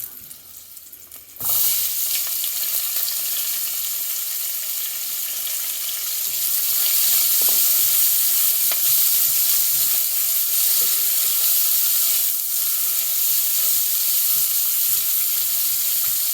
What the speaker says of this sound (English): At this point, we're going to add the onions.